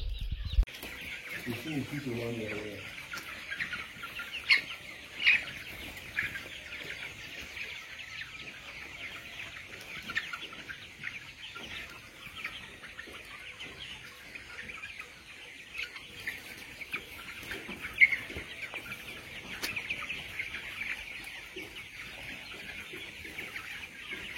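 Broiler chickens on a poultry farm fill the air with a dense, constant chorus of clucks and chirps, with occasional louder calls standing out from the flock and a voice heard briefly at the start.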